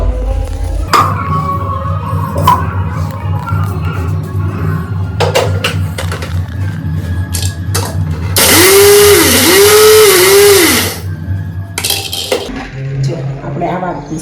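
Sesame seeds ground in a small kitchen grinder for mandvi pak, a loud whirring buzz in a few short pulses lasting several seconds, set among clinking of dishes and utensils and handling noise.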